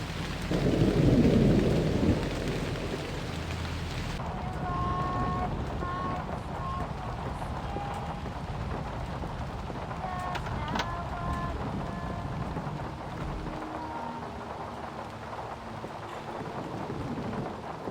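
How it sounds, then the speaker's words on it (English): Steady heavy rainfall on a dark night in the English countryside outside a mansion in a Hitman game, with a loud rumble of thunder at the start, then continuous rain hiss and faint distant tones. "it just perfectly captures the atmosphere of a dark and rainy night in the English countryside"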